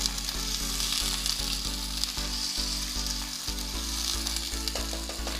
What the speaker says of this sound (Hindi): जिंजर गार्लिक के साथ 2 से 3 मिनट तक इसको अच्छी तरीके से हम भून लेंगे।